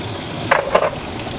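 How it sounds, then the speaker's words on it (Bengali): Potatoes frying in a pan for Kashmiri aloo dum, a soft sizzle with two brief bursts of stirring near the middle, close and otherwise steady and quiet. "এদিকে আলুটা ফ্রাই হচ্ছে।"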